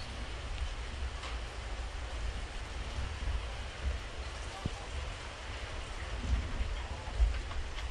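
Steady heavy rain falls during a rainstorm in Saigon as a dense, continuous hiss with scattered drips and taps. It is moderately loud and broad, with no talk heard.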